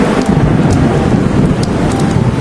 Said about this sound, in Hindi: पीहू और मीनू मौसी बाहर आ जाती हैं और एक एक करके सभी पक्षी हल्की बारिश में जमकर नहाते हैं